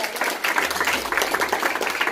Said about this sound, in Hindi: तो इन लोग, इनके लिए जोर से तालियां।